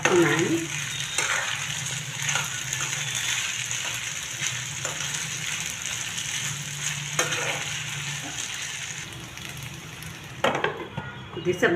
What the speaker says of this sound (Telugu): ఒకసారి అంతా కలుపుకున్నానండి